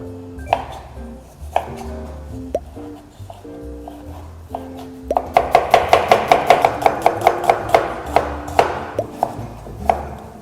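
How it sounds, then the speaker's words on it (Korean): A knife chops vegetables into thin julienne strips for japchae on a cutting board: a few scattered knocks, then a fast, steady run of sharp, close taps, with faint tonal background sounds early on. "이제 재료 손질을 할 건데, 재료는 모두 다 채 썰어서 준비를 해주시면 돼요."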